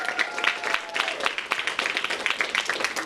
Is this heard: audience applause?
yes